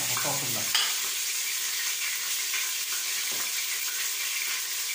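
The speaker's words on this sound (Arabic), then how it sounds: "هشوح البصل الاول." Onions sautéing in a pot on a gas stove, a constant hissing sizzle that follows an opening clatter as they go in, with faint stirring scrapes.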